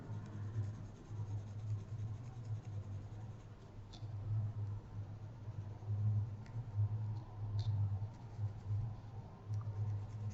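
A soft 2B pencil shades a drawing on paper with continuous quiet scratching strokes and light rubbing, steady and close, with no speech.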